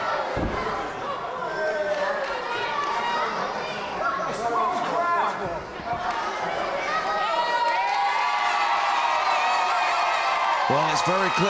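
A boxing crowd at Margate cheers and whoops loudly at a fight, a dense roar of many voices with shouts rising and falling across the arena.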